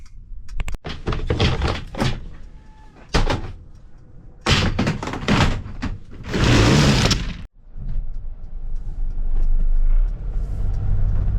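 An ASDA grocery delivery van during a delivery stop: several heavy door thunks and slams, then a steady low engine rumble as the vehicle pulls away, close and fairly loud.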